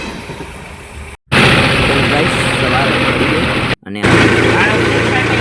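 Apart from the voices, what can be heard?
new tractor engine idling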